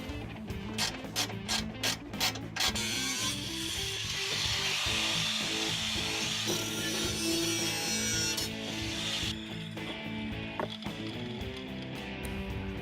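A ratchet tightens bolts on a battery box, giving rapid bursts of close, crisp clicking at first. A steadier mechanical grinding and rubbing follows, with a few more scattered clicks toward the end.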